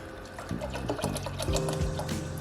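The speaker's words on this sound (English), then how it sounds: "I'm gonna add just a little bit of water" A little water poured into a saucepan of rice while cooking, a short soft trickle and splash close by, with faint background hum and clinks.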